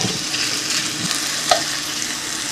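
Asparagus frying in a pan on the stove gives a steady, close hiss and crackle of sizzling oil, with a brief clack of a utensil stirring partway through.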